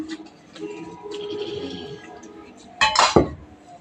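Chopped cabbage dropped into a metal cooking pot on a kitchen stove: a loud clattering clink and rustle near the end, after quieter kitchen clatter.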